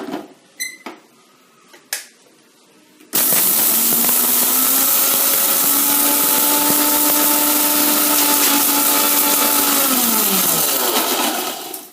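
A mixer grinder whirs loudly and steadily while grinding lentils with tamarind for a pumpkin thuvaiyal, its motor pitch sliding gradually lower near the end; a few soft clinks come first before the motor starts.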